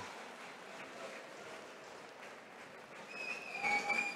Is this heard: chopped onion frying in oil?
no